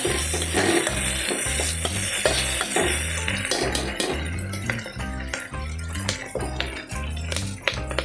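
Potato masala for poori fries in a pan while being stirred, with a steady sizzle broken by repeated metallic scrapes and clinks from the spoon, under a rhythmic low pulsing background.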